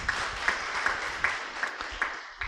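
A gathering at a Bhopal retreat centre claps in a steady, rhythmic beat of about three claps per second, moderately loud and continuous.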